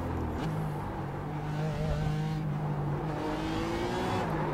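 BMW race car engine in the iRacing sim at the Charlotte Roval, droning steadily as it rises in pitch under acceleration, loud and close with no talk over it.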